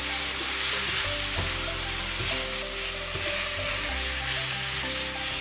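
Shredded potato, carrot and garlic scapes stir-fry in a hot wok, a steady hiss of sizzling oil broken by the scrape and clatter of a spatula tossing the strips.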